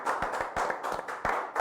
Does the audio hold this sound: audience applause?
yes